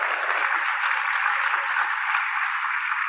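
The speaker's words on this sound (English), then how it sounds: "A round of applause for Nick and Jennifer." A conference audience applauds the sign language interpreters, steady dense clapping filling the room at an even level from start to finish with no voices on top.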